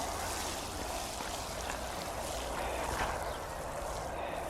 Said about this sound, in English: We'll just water these in now. Plenty of water.